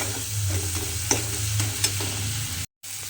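Ground spices sauté in a hot pan, sizzling steadily close up while a utensil stirs and scrapes them for about three seconds, with a brief silent gap near the end and no speech.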